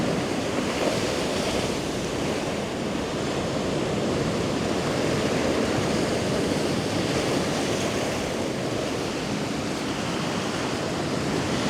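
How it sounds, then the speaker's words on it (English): Ocean waves breaking on a beach at sunrise, a continuous loud wash of surf and rushing water with wind buffeting the microphone, steady throughout with no voices. "Oh, some good waves coming."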